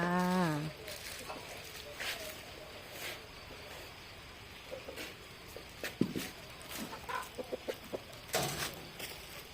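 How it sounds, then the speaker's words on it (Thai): Chickens and ducks at feeding time: a clucking call and scattered bird sounds with short sharp notes, fairly faint, mixed with light background noise and a brief voice at the start. "ไปให้อาหารเป็ดกับไก่ด้วยกันจ้า"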